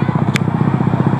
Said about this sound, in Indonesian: olahraga jet ski nih.